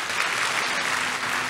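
Church congregation applauding for Jesus during a sermon, a short burst of close, dense clapping from many people.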